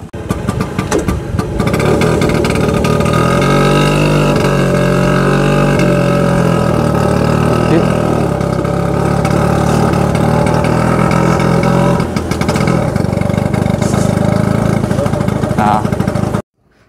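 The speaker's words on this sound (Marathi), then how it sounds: "मी जसा हळूहळू क्लच सोडते तुम्ही स्कूटर बघू शकताय, स्कूटर हळूहळू पुढे जाते" A 1985 Bajaj Priya two-stroke scooter engine runs loud and close, its buzzing drone rising slightly as the clutch is released and it pulls away, with a voice talking over it.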